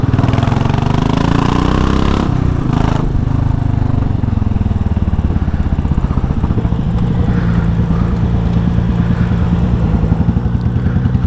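Royal Enfield Classic 500 Limited Edition single-cylinder motorcycle thumping steadily while being ridden, a loud close rhythmic low engine pulse with a brief gusty swell of wind noise early on, continuing evenly throughout.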